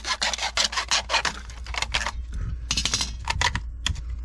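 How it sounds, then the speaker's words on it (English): An old piece of 4-inch corrugated drain pipe is sliced down the center, giving rhythmic rasping, scraping cutting strokes in uneven bursts, close and fairly loud. "Slice it right down the center."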